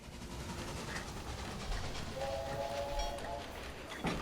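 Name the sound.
train running in Railway Empire video game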